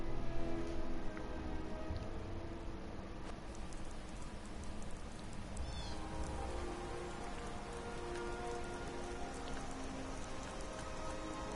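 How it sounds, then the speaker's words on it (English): Steady rain in Skyrim Special Edition pattering on surfaces, a dense continuous hiss of drops with no talking. "Raining again."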